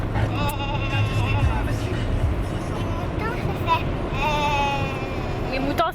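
A person mimicking sheep bleating, a wavering drawn-out voice imitation heard over a steady background rumble, moderately loud and close.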